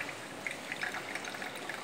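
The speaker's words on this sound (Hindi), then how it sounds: "ग्लास में छन्नी रख देंगे जिससे हमें सीधे डायरेक्ट साफ पानी मिले, और इसे ऐसे पलट देंगे।" Coconut water pours through a strainer into a glass, a thin, steady trickle with small drips, close and quiet, with no voices.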